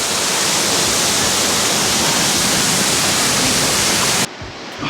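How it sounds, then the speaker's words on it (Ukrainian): A loud, steady roar of a roughly 30-metre mountain waterfall in first snow, broadband rushing water filling everything, cutting off abruptly near the end. "А ось так виглядає водоспад"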